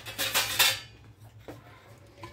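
A flat plate clatters against other dishes in a home kitchen, a short cluster of bright clinks at the start followed by faint softer taps, close and unaccompanied by talk.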